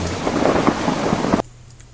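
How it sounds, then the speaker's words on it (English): Heavy rain pours with a deep rumble of thunder underneath, then the sound cuts off abruptly into near silence. "Immediately thunder follows with rain, and at the same time a great wind begins to blow."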